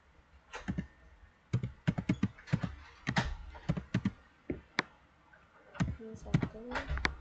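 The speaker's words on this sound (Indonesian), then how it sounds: "Kita ketik git tag" Keys clatter on a computer keyboard as a git tag command is typed, a run of sharp, close clicks in uneven bursts with short pauses, while a voice speaks over part of the typing.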